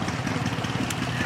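A Ford Model A Doodlebug tractor engine runs with a steady low chugging throb, close by and continuous for the whole moment, with some background voices mixed in.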